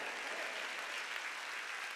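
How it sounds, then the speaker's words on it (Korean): A church congregation at a Sunday worship service claps in a soft, even wash of applause heard from a distance, with no speech over it. "이게 예배인 걸 믿으면 박수."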